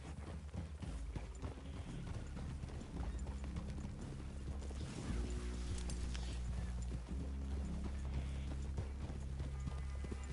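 Horse hooves clip-clop steadily in Red Dead Redemption 2 as riders approach a cabin through a wooded clearing, a dense, continuous trotting rhythm with game ambience and low rumble underneath.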